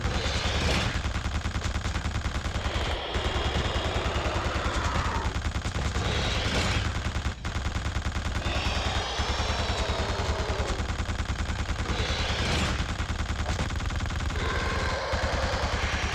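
Dense, sustained gunfire from The Suffering, with rapid repeated shots layered into a loud, continuous barrage that fills the clip and barely lets up.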